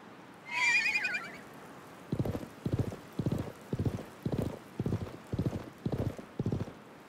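A horse in the Live A Live video game gives one sharp, high whinny, then its hooves clop in a steady gallop rhythm of about nine evenly spaced beats, loud and close, with no talking.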